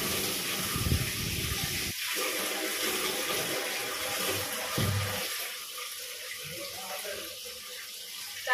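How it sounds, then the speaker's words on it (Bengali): Water runs from a household tap in a home kitchen, a steady close hiss and gush filling the whole stretch, with occasional low knocks and a voice briefly heard. "জল হচ্ছে, শুনতেই পাচ্ছে জলের আওয়াজ"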